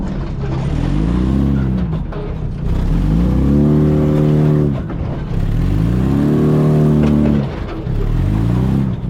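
A monster truck engine revs hard in repeated bursts, each roar climbing and falling in pitch, loud and close with short gaps between the pulls.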